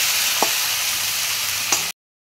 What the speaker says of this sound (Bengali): এরপরে আমি এটা ভালো করে নাড়বো।